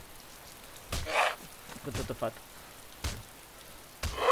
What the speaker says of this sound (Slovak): Teraz to prší.